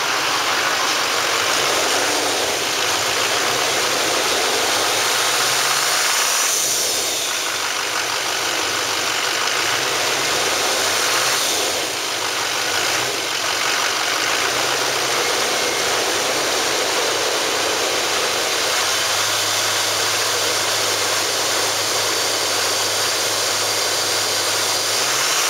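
A high-mileage Chevrolet Silverado 2500 with a Duramax diesel and automatic transmission idles steadily, close up and loud, a continuous low rumble with a broad roar throughout and no talking.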